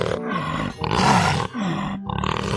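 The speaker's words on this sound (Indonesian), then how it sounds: "Wow, macan tutul teman-teman." A leopard in the video game Jurassic World Evolution 2 lets out loud, close roars in a few rough, growling bursts separated by brief pauses, with no talking over them.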